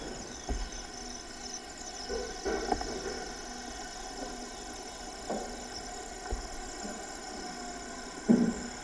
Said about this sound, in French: Des bruits de voitures,